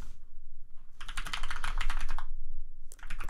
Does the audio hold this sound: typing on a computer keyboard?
yes